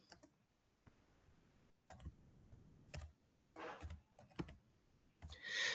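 A computer keyboard typing a ping command, with quiet scattered key clicks that come in short irregular bursts with pauses between them.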